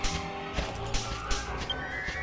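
In the PS2 remaster of Dragon Quest VIII, a horse whinnies and bucks, with shrill neighs over thumping hoof impacts in a busy, close game scene.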